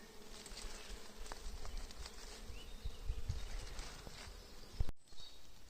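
Bees buzz steadily in a wild Carpathian forest in May, a faint, continuous hum with rustling and light footfalls nearby, ending in a sudden brief cut.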